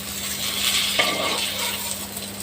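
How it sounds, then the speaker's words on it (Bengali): Bitter gourd and potatoes fry in a pan, giving a steady soft sizzle with a brief stir or scrape near the middle. No voice is heard over the cooking. "আর যেটু উচ্ছে আলু বসিয়ে দিয়েছি।"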